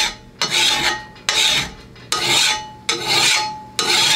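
A simple hand file rasps across a lawnmower blade in slow, loud strokes, five sharp grinding passes about a second apart, each starting abruptly and tapering off, close up and alone.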